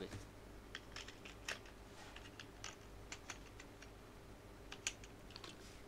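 Someone types on a computer keyboard at a quiet, close distance, entering an address in Bangla, with irregular soft key clicks in short bursts and no talking.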